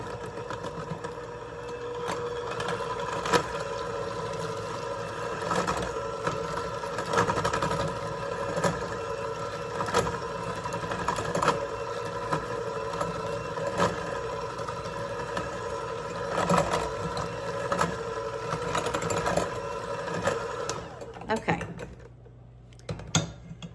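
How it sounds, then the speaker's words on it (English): An electric mixer whirs steadily as it works butter into cookie batter, with the beaters clattering against the bowl. The motor drone runs continuously and cuts off near the end. "that's another reason why I wanted to use the mixer, so that it would distribute the butter more evenly throughout the batter"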